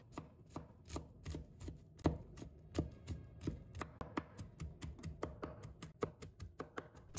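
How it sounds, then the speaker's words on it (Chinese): A knife minces sliced garlic on a board with rapid, steady rhythmic chops, dozens of crisp close taps repeating evenly throughout, with no speech. "再切成蒜末。"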